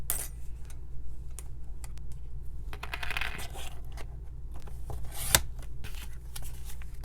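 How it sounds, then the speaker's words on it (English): Thick stack of paper specimen cards for junk journals trimmed with a cutter, giving dense crunching and rustling with a sharp snap near the end, steady and close with no talking. "So I'm going to cut it off right here."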